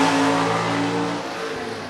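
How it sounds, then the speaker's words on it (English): Gasser drag race car roars down the dragway with a loud, rough engine note that holds and then eases slightly as it pulls away, with no talk over it. "that car sounded like it was a cracking a little bit between the gears"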